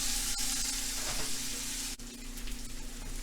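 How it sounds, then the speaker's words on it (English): Chopped garlic sautés lightly in a pan, giving a soft, even sizzle and crackle with a couple of brief clicks, close and quiet without any voices. "chopped garlic. I'm just lightly sauteing this."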